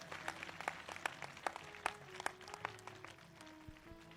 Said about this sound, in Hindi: जोरदार ताली बजाकर प्रभु को धन्यवाद दें।